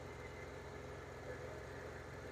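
A steady low engine idling from a Ford F150 Flareside pickup truck, with a constant rumble and hum, unchanging throughout, no other sounds standing out.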